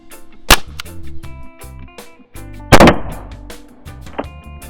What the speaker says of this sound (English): I will be shooting through the chronograph as well, just to know how powerful these shots are.